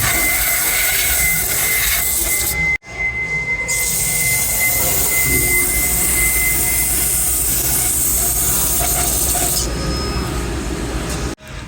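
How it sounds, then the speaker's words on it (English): Can of brake cleaner sprayed into outrigger lock pin holes on a CMC 83HD spider lift, making a loud, close, continuous harsh hiss that stops briefly once and near the end. "grab a can of your standard brake clean and blast the holes out"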